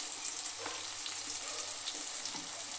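Ginger garlic paste sizzling with onions in a hot pan, a steady close crackling fry with faint stirring scrapes and no voices.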